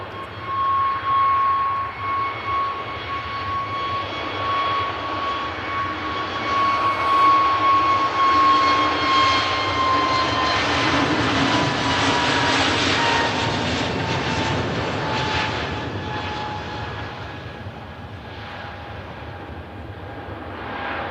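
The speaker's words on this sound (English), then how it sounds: "it's really picking out the sounds of the aviation action really well" An aircraft engine drones loud and close as a plane passes during plane spotting at an airfield, a continuous roar that swells in the middle and slowly eases without fading out, with no talk over it.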